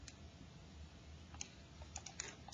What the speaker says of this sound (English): So typing that in